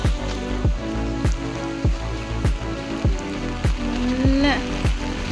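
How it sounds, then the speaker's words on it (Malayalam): Heavy rain pours down steadily with strong wind, with a regular thumping pulse running through it and faint voices underneath. "ഇവിടെ ഭയങ്കര മഴയാണ്. പറന്നു പോകുന്ന പോലെ കാറ്റടിക്കുന്നു."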